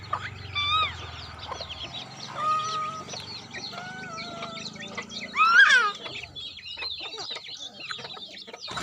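Several chickens cluck and call close by in a series of short, rising and falling squawks and murmurs, with one louder burst midway.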